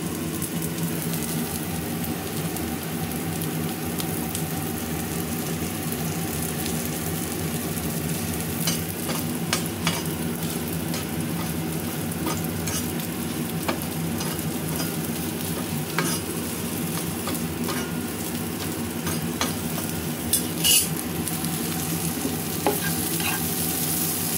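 Ghatkol sizzles in a pan of mustard oil with a steady bubbling fry, as a spatula stirs and taps at intervals over a low, constant background hum.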